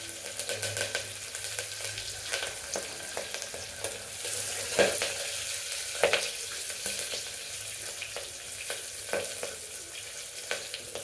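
Green chilies and curry leaves sizzle in hot oil, a steady close crackle with scattered sharp pops and occasional stirring clinks.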